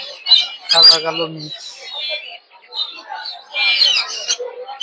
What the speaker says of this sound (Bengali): দর্শক দেখতে পাচ্ছেন সুন্দর সুন্দর কিছু জাবা পাখি